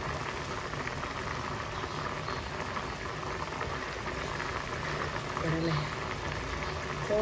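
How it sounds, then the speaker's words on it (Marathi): Pigeon pea (toor) pods boil in a pot of water, giving off a soft, steady, faint bubbling hiss that continues evenly throughout. "इथे तुम्ही पाहू शकता आपली तूर छान शिजायला लागलेली आहे"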